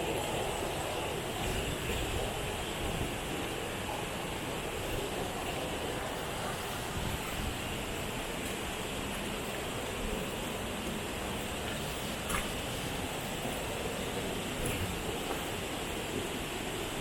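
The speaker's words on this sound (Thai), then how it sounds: "อยู่บนยอดน้ำตกเลย" Tad Wimanthip waterfall in Bueng Kan, heard from the top of the falls, gives a constant dense roar of rushing water, steady and enveloping without pauses.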